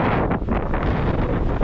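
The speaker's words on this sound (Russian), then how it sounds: "Ветер очень сильный, когда я разговариваю, он попадает в легкие." Strong wind on a mountain cliff batters the microphone in a loud, continuous roaring rush with gusty swells, alone with no voices.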